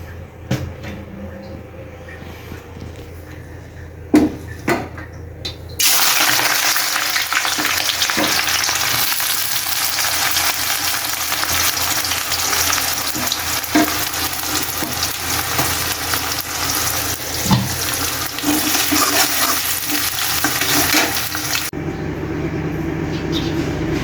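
Vegetables fry in a wok (kadai) with a loud, steady sizzle that starts abruptly after a few soft knocks and runs for about sixteen seconds before cutting off.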